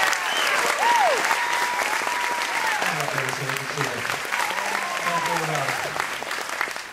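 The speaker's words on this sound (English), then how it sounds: "Give Carlos a big round of applause, ladies and gentlemen." A school concert audience gives a big round of steady, loud applause and cheering, with a few voices calling out over the clapping throughout.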